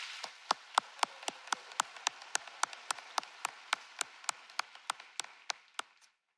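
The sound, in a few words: audience applause for parents and family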